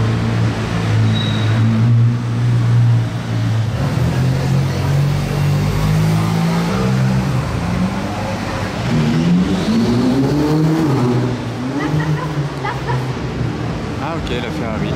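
A convoy of supercars that includes a Bentley, a Corvette and a Ferrari 812 drives past at a street carspotting event. Loud engines rumble and rise in pitch as they go by, close, under continuous talk.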